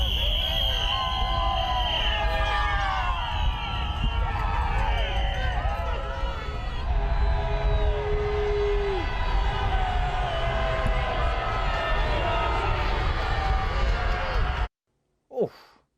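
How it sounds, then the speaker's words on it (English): Crowd of critics cheering and shouting along the roadside as Donald Trump's motorcade drives past on its way home from golfing in Virginia after losing the election, a dense continuous roar of voices and whistles, with a siren-like wail audible. "driven home past his critics cheering"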